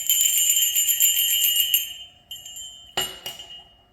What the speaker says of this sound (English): that gave me a more round jingle bell